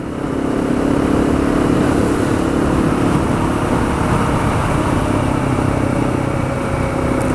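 Harley-Davidson motorcycles passing on a road, a loud continuous engine rumble that holds steady throughout with no voices.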